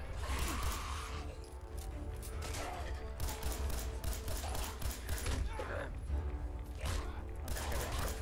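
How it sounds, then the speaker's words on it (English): Rapid gunfire in the video game Fallout 4 crackles in repeated bursts over a dense, steady background of game noise, aimed at a creature's legs. "I've been shooting him this whole time and they're still strong."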